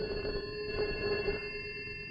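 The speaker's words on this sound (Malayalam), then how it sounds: "അയ്യോ, അവനാ ഫോൺ ചെയ്യുന്നത്." A telephone rings with a steady electronic tone, faint and alone, without speech over it.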